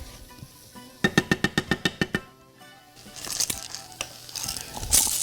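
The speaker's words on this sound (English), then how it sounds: "Make sure that the olive oil mixes in with all of the onion pieces." Onion pieces sauté in olive oil in a pan. A quick run of about ten evenly spaced knocks comes first, then a brief pause, followed by a soft sizzle with spoon scrapes and stirring clatter.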